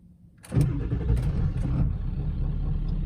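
A 7.3 diesel engine in an old Ford F250 pickup cranks briefly and catches at once, then settles into a steady, rumbling idle close by.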